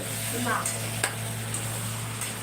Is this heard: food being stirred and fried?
yes